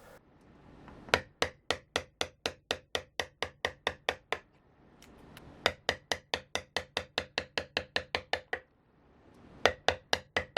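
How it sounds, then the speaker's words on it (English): Gouges and chisels clear wood from a carved woodblock in rapid bursts of sharp, close tapping strikes, each run of a dozen or more hits separated by short pauses. "starting by clearing around the lines with large U-gouges before moving to wider, flatter chisels"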